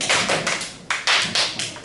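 A class clapping once on request in a classroom: a ragged cluster of group claps, several sharp bursts spread unevenly rather than one unified clap, close and moderately loud with no talking.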